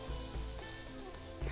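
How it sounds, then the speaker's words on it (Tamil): Buttered bread toasts in a hot pan with a steady, dense sizzle and crackle throughout, close and continuous with faint clinks, no talking. "இதை வந்து திருப்பி போட்டு ரெண்டு பக்கமும் சுட்டுக்கணும்."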